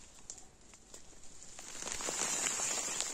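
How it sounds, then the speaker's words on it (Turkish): Rain drips and patters from trees in a forest, scattered drops tapping nearby over a soft hiss of rainfall that builds steadily louder through the moment. "Ağaçlardan sürekli yağmur akıyor."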